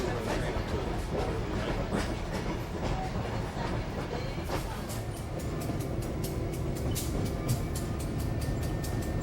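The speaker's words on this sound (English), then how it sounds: "The train moves slowly along the tracks in order to allow the passengers time to see and appreciate the views" A Lehigh Gorge Scenic Railway passenger train rolls slowly along the tracks, with a continuous rumble and rhythmic clickety-clack of wheels over rail joints, close by and steady.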